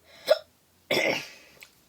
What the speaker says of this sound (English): sorry, I have the hiccups